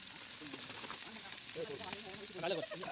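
Sliced onions with cardamom, cinnamon and cloves fry in oil for a chicken dum biryani, a soft continuous sizzle running under a voice speaking nearby.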